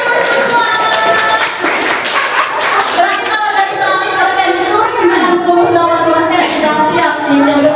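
A room of teachers claps together at a school training session, a sustained burst of hand clapping with tapping layered over talk and music-like tones throughout.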